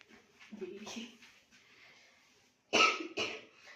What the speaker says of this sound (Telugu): సారీ అండి, మధ్యలో దగ్గుతున్నాను, సడన్గా థ్రోట్ ఇన్ఫెక్షన్ అయింది